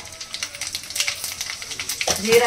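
Cumin seeds frying in hot oil in a home kitchen for a curry, giving a steady close crackling sizzle with small pops, joined near the end by a brief clatter and a voice.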